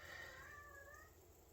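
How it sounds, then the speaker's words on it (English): A cat meows faintly in the background, one drawn-out, wavering cry fading over a second and a half against a quiet room hiss. "I don't know if you guys can hear my cat in the background."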